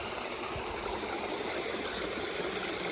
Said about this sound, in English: Back here, you can see this water coming down, and I've got it foamed up right here